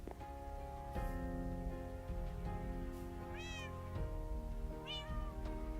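A cat meows twice within Minecraft, each call a rising-then-falling tone standing out clearly over steady background music and ambient game sound.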